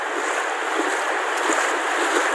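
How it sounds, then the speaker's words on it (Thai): Water flowing strongly along a stream bank on a rainy morning, a loud, even hiss and rush of moving water close by with no voices. "ฝั่งนี้น้ำไหลแรงครับ"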